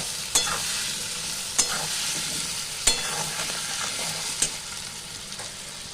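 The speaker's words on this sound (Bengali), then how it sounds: "এবার আমি আলুটাকে লাল করে ভাজতে থাকবো।" Potatoes with salt and turmeric fry in a pan with a loud, continuous sizzle, punctuated by four evenly spaced sharp clicks of a utensil striking the pan as they are stirred.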